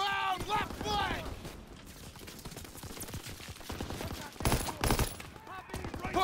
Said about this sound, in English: We gotta suppress the machine gun!